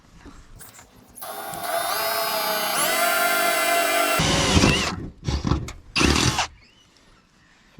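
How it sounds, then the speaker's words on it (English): A power drill bores bolt holes through metal while fitting a snorkel, running in one long steady whine with a pitch shift partway through, then a few short bursts as the bit finishes. The drilling is close and loud. "going to drill out the bolt holes first now"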